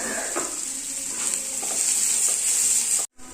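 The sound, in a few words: chopped onion sautéing with salt in pan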